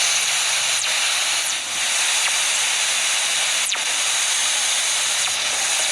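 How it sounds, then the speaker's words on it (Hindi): Fast radio burst space sounds recorded by Voyager 1, a loud continuous wash of hissing noise broken by faint descending sweeps, no voices. "रिकॉर्ड होने वाली ये आवाजें, जिनको फास्ट रेडियो बर्स्ट कहा जाता है,"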